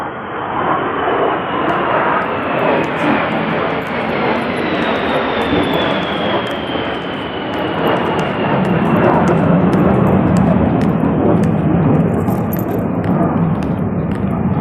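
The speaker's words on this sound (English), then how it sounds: "We're right at the ocean front, where you hear all the jet noise." Jet aircraft roaring overhead at an ocean front, a loud sustained engine rumble with a slowly falling whine as the plane passes, growing heavier toward the end.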